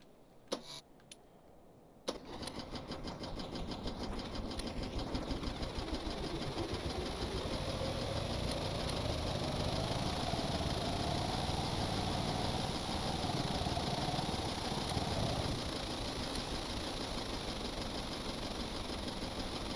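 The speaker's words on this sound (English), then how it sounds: "I have two medium engines powering two medium generators" Two medium engines powering two medium generators on a boat in Stormworks run at a steady, loud drone that starts after about two seconds and holds unbroken to the end, with a faint tonal whine rising midway.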